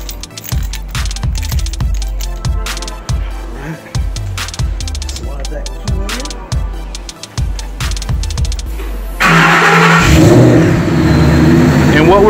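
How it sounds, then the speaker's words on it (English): A Ford Mustang with a 5.0 Coyote V8 and a newly installed fuel system cranks over, then settles into a loud, steady idle after a run of rhythmic pulsing engine sounds, recorded up close. "we're gonna just let the car idle"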